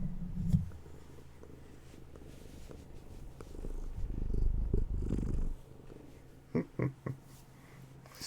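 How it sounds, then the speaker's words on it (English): A cat purrs loudly and close up, a soft rumbling flutter that swells and fades across several breaths, with a few light rustles and clicks near the end. "Such a big purr."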